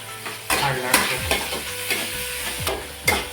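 Finely chopped onions frying in a hot pan, a steady bright sizzle with repeated spoon scrapes and stirring knocks, close and lively.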